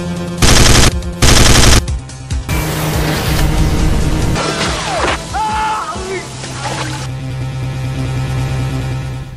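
Gunshot sound effects in a homemade film: two loud bursts of rapid, machine-gun-like fire open the clip, followed by a busy mix of layered effects and background noise.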